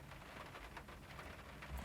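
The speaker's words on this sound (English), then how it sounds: "So today is a rainy day" Steady rain falls on a rainy day as a dense, even hiss of drops hitting surfaces, close and constant with a faint low rumble beneath and no voices.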